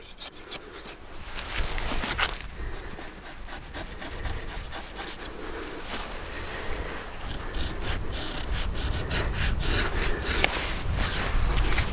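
A knife rasps and scrapes against walnut wood, cleaning up a saw cut on a tree graft, in close, continuous rubbing strokes that grow slightly louder toward the end, with no speech.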